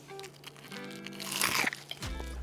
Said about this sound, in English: This is how crunchy it is.